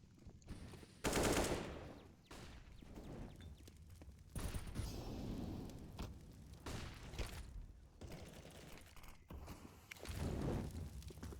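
Gunfire in a competitive Counter-Strike-style shooter match on Ancient or Inferno, quiet bursts of rapid shots and single reports scattered through the stretch, with several louder clusters.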